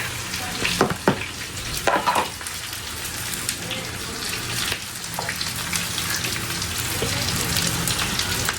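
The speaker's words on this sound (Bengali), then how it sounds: "এখন এটাকে ভালো করে নাড়াচাড়া করে ডিমটা পরে দিব" Fried rice with carrot sizzles loudly in a pan while being stirred, a constant close frying hiss broken by a few sharp scrapes and clatters early on.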